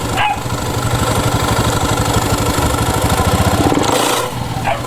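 A Honda Zoomer X scooter with its CVT cover removed revs up under acceleration, giving a loud, rattly, pulsing engine noise with a strange grinding tone from the CVT. A dog barks nearby over the motor.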